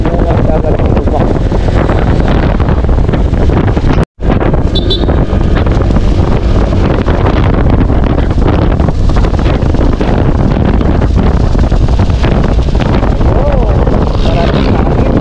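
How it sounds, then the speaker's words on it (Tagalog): Loud, constant wind roaring and buffeting against the microphone while riding on a highway, a dense broadband rush that barely lets up, with a brief dropout partway through. "maraming hangin sa highway"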